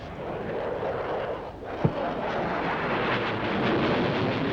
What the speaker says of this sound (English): An aeroplane.